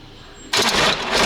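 A sudden harsh, noisy mechanical grinding starts abruptly and continues loudly as a seized BMW engine strains to crank over.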